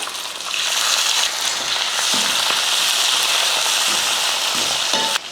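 Mustard seeds popping and crackling in hot oil while tempering for an ivy gourd pickle, a loud, dense, continuous sizzle with scattered sharp pops throughout, close and with no voices.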